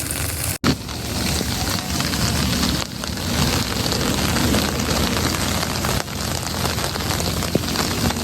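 Monsoon rain pours steadily on a mountain ride near Morbe Dam, a dense, continuous wash of drops drumming on a tent and surroundings, loud and close with no pauses.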